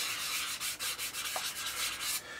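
Rhythmic rubbing strokes of a fine-grit sanding sponge on a 1:72 plastic model aircraft, a rapid series of short scratchy swipes at close range, alone and fairly quiet.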